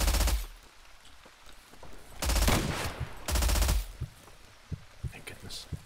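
Bursts of automatic gunfire in the shooter game Zero Sievert, three loud rapid volleys separated by pauses, with a few scattered single shots and quieter clicks in between.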